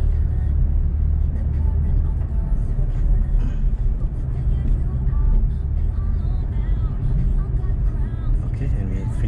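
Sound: Porsche sports car driving a slalom through cones

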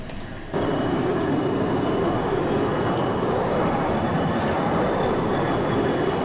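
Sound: aircraft engine at full throttle on takeoff, Arma 2 video game

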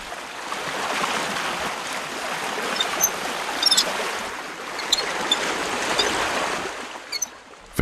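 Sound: water flowing through a salt pan sluice gate

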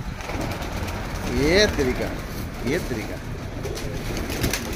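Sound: pigeon cooing

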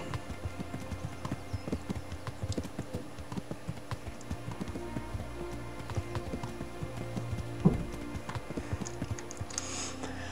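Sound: horse hoofbeats in the video game Kingdom Come Deliverance

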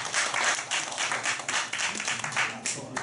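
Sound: audience applause

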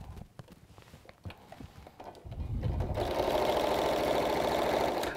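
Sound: sewing machine stitching down the side of a fabric basket

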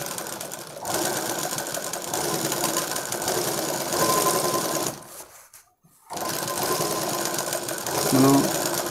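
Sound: sewing machine stitching blouse piping

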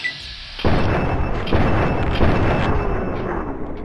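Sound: gunfire in the video game Fallout 3

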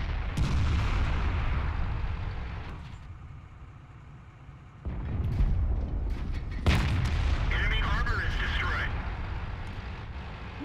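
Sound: tank cannon fire and explosions in video game World of Tanks

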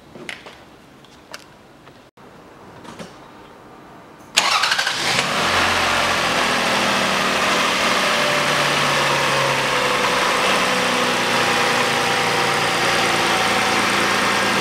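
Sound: Toyota Harrier MCU30 engine running after throttle body replacement

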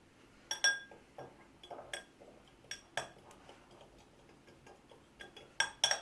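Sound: stirring spices, tomato paste, oil and vinegar in a bowl

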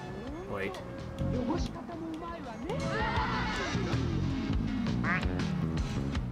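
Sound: rubber ducks quacking in Placid Plastic Duck Simulator video game

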